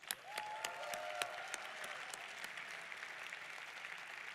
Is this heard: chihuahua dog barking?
no